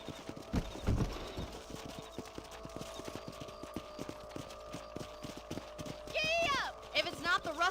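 Horses' hooves clip-clop steadily at a brisk pace in the video game Red Dead Redemption, a continuous rhythmic patter under characters talking, with a short whinny-like call near the end.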